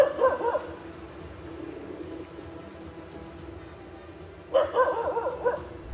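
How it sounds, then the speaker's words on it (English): A dog barks in two short bursts, one at the start and another near the end, each a quick run of yips over steady low background rumble, fairly close and moderately loud. "The dog started barking at first"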